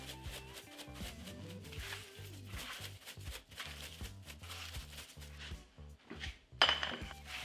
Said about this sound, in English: We'll set this beef onto this plate